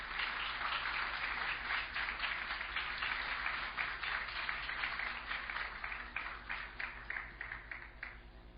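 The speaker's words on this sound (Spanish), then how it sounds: "Aplausos, por favor, para los jueces." Audience applause for the judges at an international student debate tournament, a dense steady clapping that runs throughout and tapers slightly toward the end, with no voices over it.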